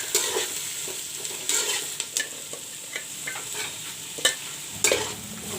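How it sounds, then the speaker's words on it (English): Onions for a mutton jhol gravy sizzling and frying steadily in a pan, with close stirring scrapes and occasional utensil clinks over the continuous hiss. "Let this onion fry till golden brown."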